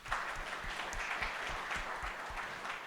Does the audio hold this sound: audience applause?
yes